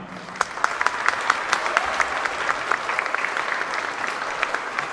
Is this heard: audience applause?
yes